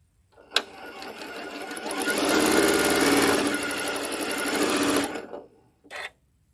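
A sewing machine with a zigzag plate stitches fabric pieces together in a fast, steady mechanical whir lasting several seconds, bracketed by a sharp click at the start and a short burst after it stops.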